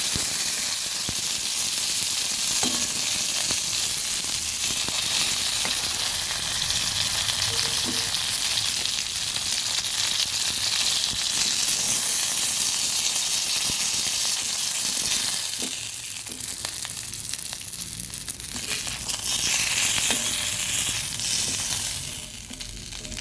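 Fish frying in hot oil gives a dense, continuous crackling sizzle that stays loud and close throughout, briefly dipping in intensity before surging again, with no voices.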